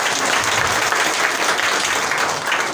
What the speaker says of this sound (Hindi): जोरदार तालियां प्रभु यीशु मसीह के लिए।